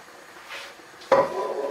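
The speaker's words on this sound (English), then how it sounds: "So we get out a frying pan." A frying pan is pulled out and set down for cooking steak in a home kitchen, giving one sharp metallic clank followed by a brief ringing rattle, close and fairly loud, after a soft scrape.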